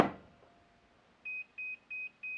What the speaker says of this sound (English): one of them is just going to beep when I put it on.